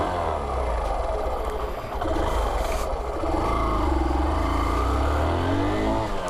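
A Hero Super Splendor 125 BS6 motorcycle engine runs and pulls away on a test ride, its low, steady thrum rising and falling as the rider revs, close and continuous throughout.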